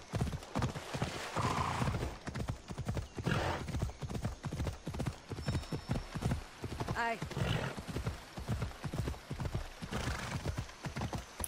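Horse hooves clip-clop steadily in Assassin's Creed Odyssey as the rider's mount trots in, a loud, even rhythm running throughout, with a brief whinny partway and speech over parts of it.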